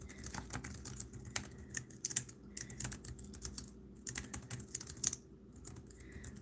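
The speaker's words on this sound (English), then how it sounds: "So I'm typing this now." Fingers tap steadily on a computer keyboard, close and fairly quiet, in uneven bursts of clicking keystrokes with short pauses and no talking.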